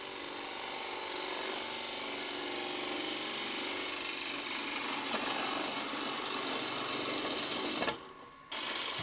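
A wood lathe spins as a tool turns a PVC urn insert with a slight vibration, a loud steady broadband whir and hiss that holds for several seconds and then suddenly drops away near the end.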